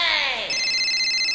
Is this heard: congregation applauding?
no